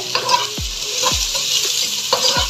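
Onions with green chillies frying on high heat in a pan, a loud close hiss of sizzling oil broken by several sharp stirring scrapes and clanks against the pan.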